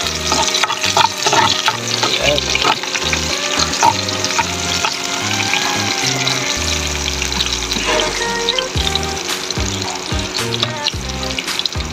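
Garlic frying in olive oil in a pan, a loud, continuous close-up hiss and crackle that runs without pause under no speech.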